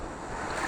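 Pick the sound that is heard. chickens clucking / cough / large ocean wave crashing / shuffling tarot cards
large ocean wave crashing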